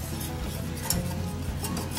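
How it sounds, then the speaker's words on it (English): Steady scraping and swishing of a whisk working flour quickly against a pot, continuous and close, with no voices. "You have to whisk it really quick."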